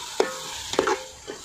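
Tomatoes sauté in a pan for Ambur mutton biryani as a spoon scrapes through them in three distinct strokes over a soft, continuous sizzle, close and fairly loud, with no talking.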